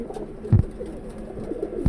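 Old tournament pigeons in a loft, around five years of age, including a khaki bird and a hen, coo in low soft murmurs with a couple of louder throaty pulses, fairly close, with no talking.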